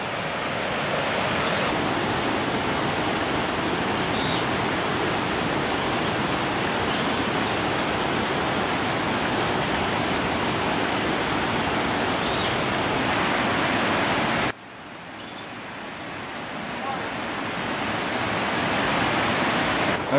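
Steady rushing roar of a waterfall on a Costa Rica trail, loud and continuous broadband water noise that drops abruptly in level near the end, then slowly builds again, with no voices.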